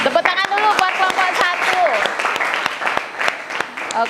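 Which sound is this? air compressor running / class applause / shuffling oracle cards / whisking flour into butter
class applause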